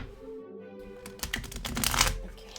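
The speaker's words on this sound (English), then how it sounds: "Okay, it's enough shuffling." A deck of tarot cards is shuffled by hand during a reading, a close papery riffling and rustle that builds over a couple of seconds with no talk.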